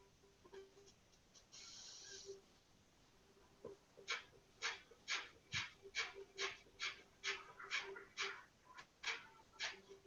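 Kapalbhati pranayama breathing: forceful abdominal exhalation strokes with the chest held still, about a dozen sharp nasal puffs in a steady rhythm, close and fairly soft, following a few scattered breaths.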